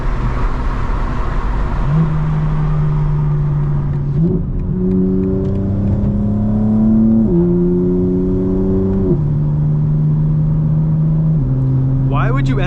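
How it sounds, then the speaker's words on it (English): A 2025 BMW M4 Competition accelerates hard onto the highway, heard from the cabin. The loud engine note climbs and then steps with each gearshift, repeating through several gears in a continuous, close drone. "Car sounds so good."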